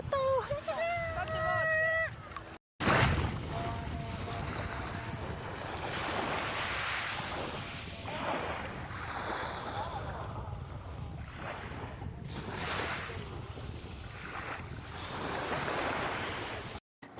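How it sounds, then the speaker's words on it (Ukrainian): Sea waves on the shore at Scalea, Calabria, in Italy, a steady rush of surf with wind buffeting the microphone, rolling and washing through the clip while a voice talks over it at times. "Круте море, крута вода, бірюзова."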